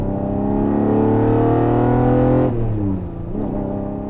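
A Koenig Specials Ferrari Testarossa, an 80s supercar, pulls hard in second gear: loud, rising engine roar for about two and a half seconds, then the note drops off as the throttle lifts.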